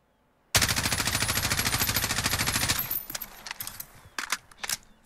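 Rapid automatic fire from an M4 SOPMOD Block II rifle in Call of Duty Modern Warfare, a loud sustained burst of about two seconds with evenly spaced shots, followed by scattered quieter clicks and clinks.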